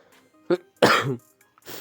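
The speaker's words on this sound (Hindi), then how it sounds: "यार खांसी एक तो जान नहीं छोड़ी अभी तक इसने ना" A few coughs, one short and one longer harsh burst, with a softer one trailing off, close and fairly loud in a quiet room.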